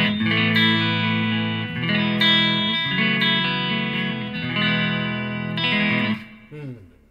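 A Heritage H-150 electric guitar on its rear pickup rings out in bright, clean chords, sustained strums that decay and are restruck several times before a final fading note.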